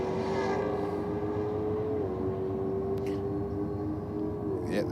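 Holden Ute and a Mustang at a drag strip, a steady distant engine drone with a sustained tone shifting slightly in pitch, faint crowd or voice traces underneath.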